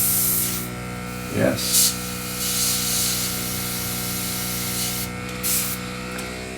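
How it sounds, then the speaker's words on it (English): An airbrush sprays paint onto an Eduard Messerschmitt Bf 109K scale model kit, giving a steady close hiss with brief louder bursts as a voice talks over it. "taken his airbrush off the surface, because keeping it on might get a couple of air pressure splatter"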